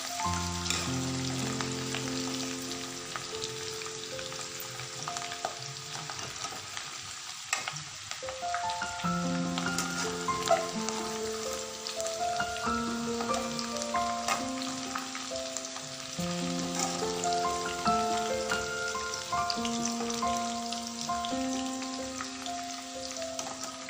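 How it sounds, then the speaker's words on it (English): Onions frying in hot oil in a pan, a continuous crackling sizzle with soft stirring, close and steady, while gentle background music plays throughout. "Now fry the onions."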